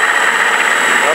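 An LX B-25 model plane fitted with a ShockWave high-performance sound module plays a steady, loud simulated engine drone at startup, a continuous close rumble with no pauses.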